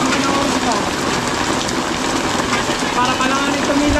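Steady rain pours down in a continuous dense hiss with a low rumble underneath, loud and unbroken throughout.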